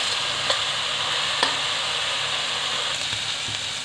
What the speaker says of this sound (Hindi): प्याज को अच्छे से हमें ब्राउन होने तक भूनना है